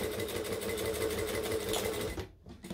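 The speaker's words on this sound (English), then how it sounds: "Even though this is lots of layers, I'm not really struggling to sew through it." A sewing machine stitches steadily through many thick layers of a circle bag edged with piping cord. The loud, continuous motor hum runs for over two seconds, cuts off briefly near the end, then starts again.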